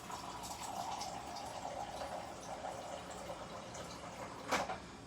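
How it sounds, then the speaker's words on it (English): Spring water is poured into a cup in a kitchen, a steady soft trickling fill lasting several seconds, ending with a brief splash. "I'm gonna add a little bit of water, a little bit of spring water quickly"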